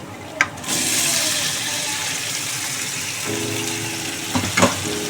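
Mutton marinated with ground garlic, ginger, coriander, cumin and sour yogurt hits a hot pan, starting a loud, steady sizzle that keeps going, with a couple of sharp clinks near the end.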